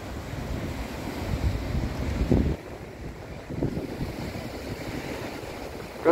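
Water lapping against the shore of San Francisco Bay near the Golden Gate Bridge in late afternoon, a steady wash of small waves mixed with strong wind buffeting the microphone, no voices.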